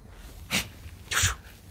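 Two quick, sharp sneezes about half a second apart, close and fairly loud against a quiet room.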